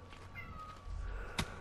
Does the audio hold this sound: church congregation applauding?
no